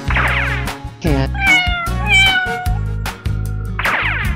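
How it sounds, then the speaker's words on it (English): A cat meows several times, loud and close, with rising and falling cries over a steady thumping beat. "Cat."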